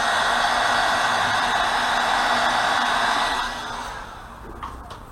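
Airbrush air or dryer drying freshly airbrushed paint on a fishing lure, a steady loud hiss of blowing air that cuts off partway through, leaving a quieter background.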